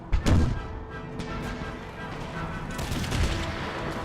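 Musket volleys crackle across an Empire Total War battlefield, with a loud close burst early on followed by a sustained rolling spatter of distant gunfire.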